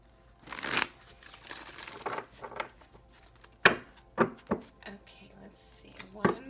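Transparent Tarot cards by Emily Carding shuffled by hand, giving soft riffling flutters and several sharper taps and snaps spaced across a few seconds, close and quiet.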